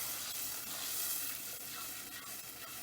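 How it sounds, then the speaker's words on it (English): Tomato paste sizzling in a hot pan while being stirred, a faint, steady hiss with soft scraping. "We're going to put our paste in here, right? We're going to mix it."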